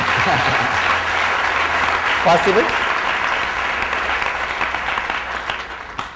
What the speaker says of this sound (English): let's give a good clap for their arrangement